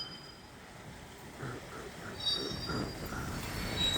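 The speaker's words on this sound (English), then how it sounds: "Oh, he's got the breast cancer awareness locomotive today." Rock train locomotive passing on the rails, heard as a low rumbling roll that builds steadily, with faint creaks and a thin high wheel squeal above it.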